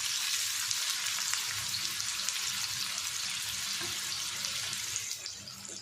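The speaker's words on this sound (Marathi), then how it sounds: "आता तेल तापत ठेवलं मंडळी कांदा टाकून घेते दोन कांदे आहेत" Two onions frying in hot oil for a Marathi dried bangda (mackerel) kismur, giving a steady, close, dense sizzle that fades slightly near the end, with no talking.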